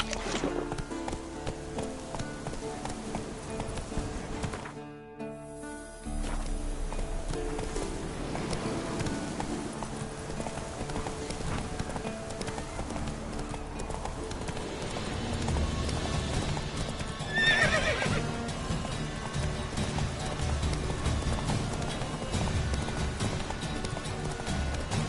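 Roach the horse galloping in The Witcher 3, rapid rhythmic hoofbeats on open ground with an occasional snort, cutting out briefly before resuming at a steady run, with game music and ambience underneath.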